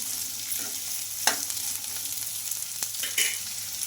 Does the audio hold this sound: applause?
no